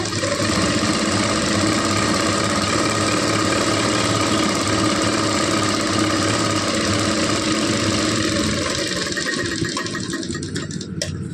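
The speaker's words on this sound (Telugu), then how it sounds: "ఇక్కడ నేను స్టిచ్ వేసేస్తాను" A sewing machine runs continuously while stitching thread piping, a dense, steady mechanical whir close by for about ten seconds before slowing near the end, with no talk.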